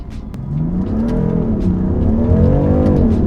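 A BMW M4 engine revs hard and steadily as the tyres break traction, a loud, continuous rising and falling drone up close with no voices.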